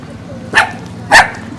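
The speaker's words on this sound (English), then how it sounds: "Look at this puppy" A puppy on a quiet street near Montañita, Ecuador, gives two sharp, close barks about half a second apart. Faint background noise fills the gaps.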